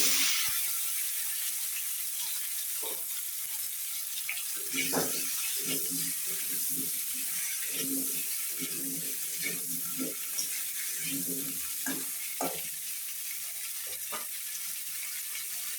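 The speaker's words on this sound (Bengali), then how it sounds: "এখন ওই ডিম ভাজার তেলে এখন কপি আর আলুটা ভেজে নেব।" Cauliflower and potato fry in oil left from frying eggs, giving a steady hiss under intermittent stirring clatter and a low murmuring voice.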